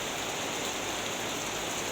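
Heavy rainy-season rain pours over a grapevine garden in Indonesia, a dense, even hiss that holds steady with no other sounds.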